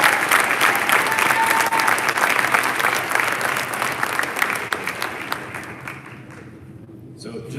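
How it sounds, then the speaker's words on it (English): A crowd at a high school athletics event applauds loudly and continuously, the clapping gradually thinning out over several seconds before a voice begins speaking at the end. "Give him a round of applause"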